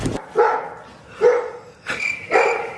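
A pet dog barks at a toy squirrel built from Lego bricks that has been set outside. Four sharp, close barks come at roughly even intervals with brief quiet between them.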